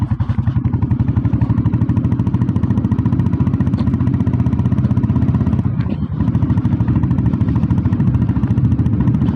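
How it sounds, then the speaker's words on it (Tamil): An old red Royal Enfield Bullet Deluxe motorcycle rides in top gear, its engine a loud, steady, close thumping that runs without a break throughout. "டாப்பில் போகிறேன், வண்டி போகிறதே தெரியலைங்க."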